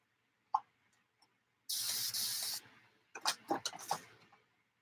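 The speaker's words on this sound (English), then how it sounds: "I spray a little bit of water in them" Water spritzed from a spray bottle onto art supplies: a short burst of fine hiss, then a few quick sputtery pumps, close and quiet with small clicks around them.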